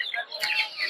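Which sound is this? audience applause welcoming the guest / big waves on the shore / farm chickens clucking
farm chickens clucking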